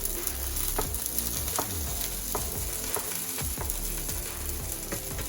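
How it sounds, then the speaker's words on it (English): Steady, crackling sizzle of tofu frying in a hot pan, with occasional scrapes and clicks from stirring throughout. "Now while this is sizzling"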